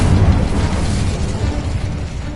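An Incendio fire spell cast in the game Hogwarts Legacy, giving a loud, close whooshing roar of flame with a low booming body that holds steady for about two seconds.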